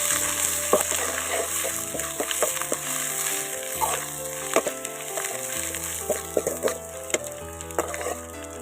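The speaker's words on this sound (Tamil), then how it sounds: "இந்த முடவாட்டுக்கால் கிழங்கையும் இதில் போட்டு நல்லா வதக்கிக்கலாம்" Mudavattukal fern rhizome tubers sautéing in a pan for a health soup, with a steady close sizzle broken by frequent scraping stirs of a spoon against the pan and a faint tonal drone in the background.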